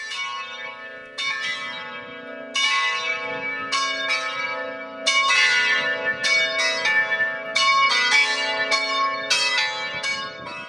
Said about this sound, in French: on va entendre un carillon manuel qui date du début des années 50